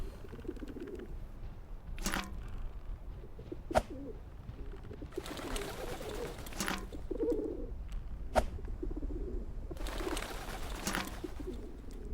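Pigeons coo in the Whateverland video game, soft repeated low calls rising and falling over a steady ambient background, with a few sharp clicks between them.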